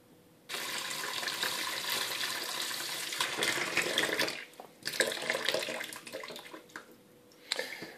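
Warm water runs steadily into a container holding a menthol concentrate with undissolved crystals, loud and close, pausing briefly near the middle and again just before the end.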